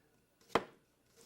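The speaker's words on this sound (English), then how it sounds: "I'm going to take the blade of the knife down against the onion, very thin." A French knife slices down through an onion in a single crisp chop, close and sharp, then quiet, with no one speaking.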